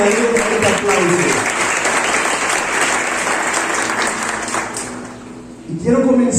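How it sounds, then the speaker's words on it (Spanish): A church congregation bursts into loud, sustained applause that fills the room for several seconds, fading briefly before swelling again at the end. "Yo sé que ustedes le darían un aplauso"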